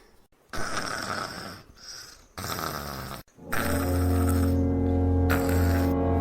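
Heavy, rasping snores in several long rumbling breaths, close and loud, ending in a sustained guttural drone.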